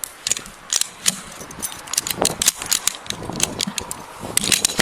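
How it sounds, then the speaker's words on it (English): A handgun, its magazine and loose rounds tossed onto the ground during a police stop, producing a scatter of sharp metallic clacks and rattles in quick irregular bursts, close and moderately loud. "here's where he's going to unload his gun, throw his mag, the rounds,"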